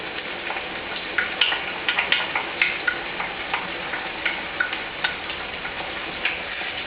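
Tomatoes tipped into a pan of translucent onions sizzle with a steady, close crackle, dotted with sharp clicks and pops; no one speaks.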